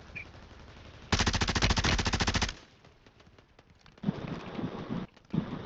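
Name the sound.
gunfire in the video game Warzone 3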